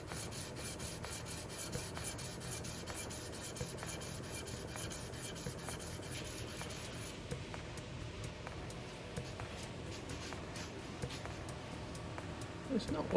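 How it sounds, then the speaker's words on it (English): A Rutlands Luban rebate block plane's sole rubbed back and forth on 400 grit abrasive, a steady close scratchy rasp with an even rhythm throughout. "I'll just put it on some, try on some 400 grit and just see where we go from there."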